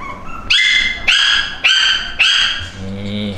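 A cream Pomeranian dog barks four times in quick succession, close and loud with sharp high-pitched yaps, then ends in a softer whine.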